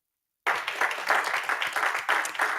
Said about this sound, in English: Can we give a round of applause for Layla?